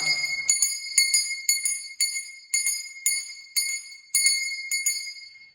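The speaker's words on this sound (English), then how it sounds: "that's to ring the bell" A small school handbell at an old schoolhouse in Gracehill rings in a rapid run of bright, metallic strikes that keep a steady rhythm, each one shimmering briefly before the next. No voices.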